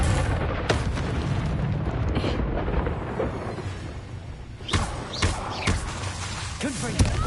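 Confringo spell explosions go off in a video game as several deep booms and sharp blasts, loud and near, spread over a steady rumble, with a couple of punchy hits close together toward the end.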